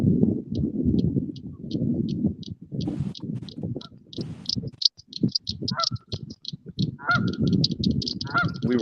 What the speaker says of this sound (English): I keep hearing that goose on somebody else's stream, and I keep looking up like, it sounds like it's right behind me.